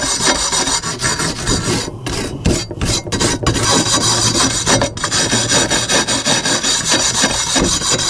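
Brisk scrubbing of dried soil and flaky rust from a garden tool, a loud, close, continuous rasping rub with a few short breaks and quick strokes, no voices.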